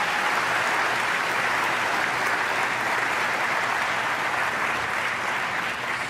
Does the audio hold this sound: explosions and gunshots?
no